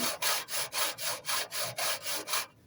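A hacksaw with a 32-tooth blade cuts through a round tin downpipe in even back-and-forth strokes, about nine loud close rasping pulls that then stop suddenly, with no talking.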